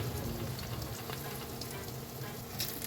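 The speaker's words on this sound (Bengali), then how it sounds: "এখন ডিমটা ভেজে নিচ্ছি" Egg frying in a pan for vegetable noodles, a dense, even close sizzle without pause, no talking.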